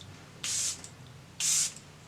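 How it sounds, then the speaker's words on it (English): Two short hissing bursts of Charlotte Tilbury Airbrush Flawless setting spray from a pump bottle, close and crisp, about a second apart with quiet between. "I'm gonna go in with setting spray, and I'll be using my Charlotte Tilbury Airbrush Flawless Setting Spray"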